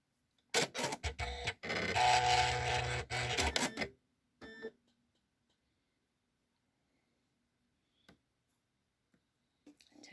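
A sewing machine joins paper-pieced sections of a single-folded foundation paper piecing block, a close, steady mechanical whir lasting about three seconds, then a pause, a short second burst and near silence with faint clicks.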